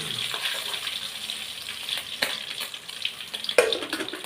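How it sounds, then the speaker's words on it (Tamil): Hot oil sizzles and hisses steadily as curry spices, including mustard seeds and fenugreek, are tempered for fish curry, with scattered crackles and a few sharp pops, close up and without voices. "இந்த எண்ணெயிலே குழம்ப தாளிச்சிடுறேன்."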